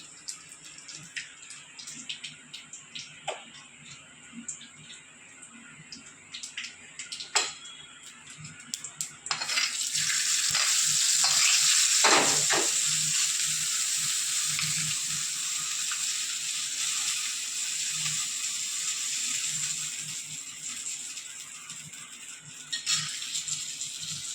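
Mustard seeds, curry leaves and a dried chilli tempered in hot oil for a black urad dal and tomato chutney: scattered pops and taps of seeds give way to a loud, steady sizzle that slowly tapers off.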